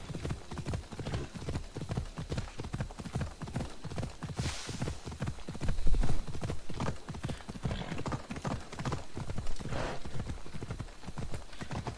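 Horse hoofbeats clip-clop in a steady, quick rhythm in a video game, close and continuous throughout, with a brief louder burst in the middle and little talk.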